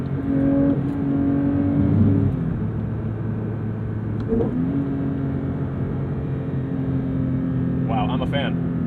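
A manual 992.1 Porsche GT3 engine blips and revs during a double-clutch downshift, then settles into a steady cruising drone inside the cabin while someone talks over it.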